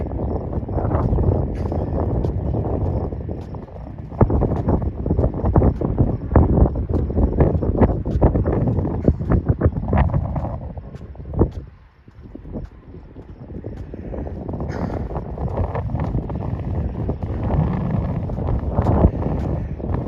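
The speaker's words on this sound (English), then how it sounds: "But it is really windy up here today." Strong gusty wind buffets the microphone outdoors, a loud continuous low roar with rustling bursts that briefly dips before rising again.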